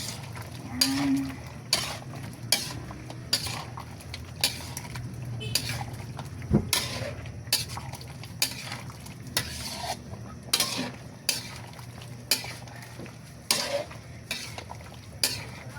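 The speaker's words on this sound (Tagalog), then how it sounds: "Haluin po natin para maihalo natin ang kanyang mga sahog" Chicken caldereta stirred in a pot, with repeated scraping and stirring strokes in a steady rhythm over a low hum, close and moderately loud, with a faint voice now and then.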